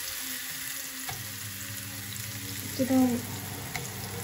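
Beef with chilli paste stir-frying in a pan over high heat, a steady loud sizzle throughout with a brief stir or scrape near the end; someone speaks briefly over it.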